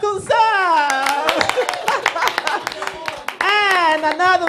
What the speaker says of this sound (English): And another massive round of applause for the council executives over there.